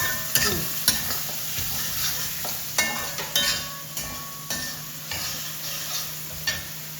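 Onion cubes fry in a pan for fried rice and chilli chicken, a constant sizzle punctuated by regular scraping stirs every half second or so, close and clear.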